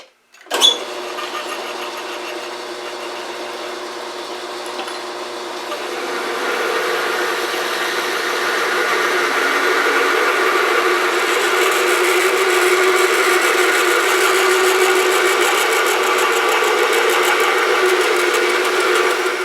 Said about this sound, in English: all I'll really be doing is center drilling and then drilling and reaming